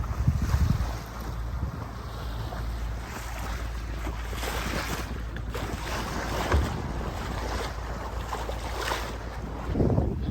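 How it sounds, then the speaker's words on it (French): A light 10-knot north wind rushes steadily at open sea off Greece, buffeting the microphone in gusts, with water washing against a sailboat beneath it and no voices. "Le petit vent du nord à 10 nœuds s'est levé."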